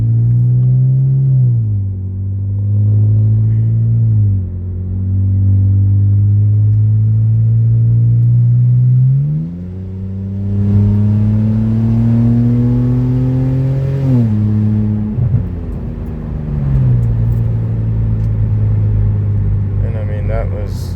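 A BMW N52 engine drones loudly, revs climbing in several rising pulls with brief drops between gear changes, heard from inside the car.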